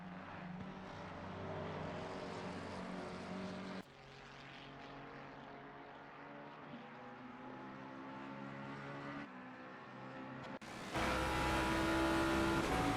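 Race car engine at Silverstone in a console racing game endurance event, a sustained droning engine note that drops in pitch on a gear change, then surges louder toward the end.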